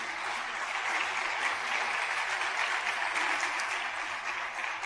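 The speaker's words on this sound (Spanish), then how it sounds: "Dele un fuerte aplauso al que vive para siempre" A church congregation claps loudly through a Sunday morning worship service, a dense, steady wash of applause that holds level for the whole stretch with no voices breaking through.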